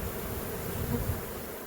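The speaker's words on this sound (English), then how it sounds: "there's a lot of bees in there, a lot of bees in the air" Swarm of honeybees filling the air during a cutout and hive relocation, a dense continuous drone of buzzing wings, steady and close, with no voices.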